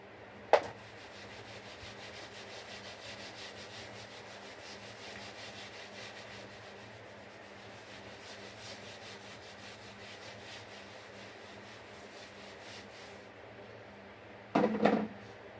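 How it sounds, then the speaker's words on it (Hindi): Steady rubbing of a duster erasing chalk or marker writing from a classroom board, a continuous soft scrubbing texture lasting several seconds, close and moderately quiet, with a sharp knock near the start and another clatter at the end. "अब इसे मैं रब करता हूं।"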